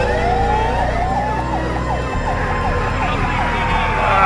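Wailing police car sirens in Grand Theft Auto IV: Episodes from Liberty City with the LCPDFR mod, a 1972 Oldsmobile Vista police cruiser among other cop cars, sweep up and down continuously and loudly over engine and road noise.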